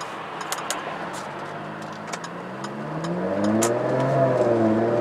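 A 2015 Jaguar F-Type Coupe pulls away from a standing start, its engine tone rising steadily from a low idle into a louder climbing rev, heard from inside the car with a few faint clicks over the top.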